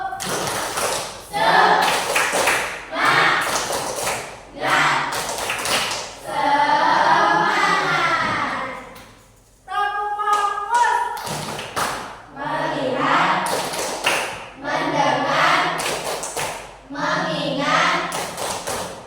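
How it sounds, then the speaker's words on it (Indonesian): A classroom group performs a rhythmic spirit clap, bursts of patterned clapping alternating with voices chanting in unison, repeated in several rounds with a short pause midway. "Yuk, kita tepuk semangat dulu."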